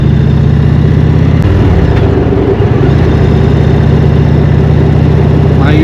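Indian Springfield Classic motorcycle exhaust while riding on a warm Texas day through countryside, a loud continuous low rumbling engine drone with steady pulsing throughout.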